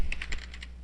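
Quick, light keystrokes on a computer keyboard while typing a worksheet, about six close clicks in under a second with no talk.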